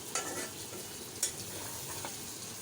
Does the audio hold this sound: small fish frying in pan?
yes